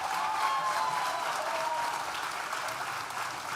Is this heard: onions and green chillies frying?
no